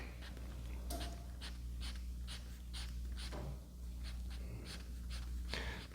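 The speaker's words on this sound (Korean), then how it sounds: "이렇게 색칠 꼼꼼히 칠해봐요" A pen scratches across paper, colouring in a set diagram with repeated short strokes, close-up and crisp over a low steady hum.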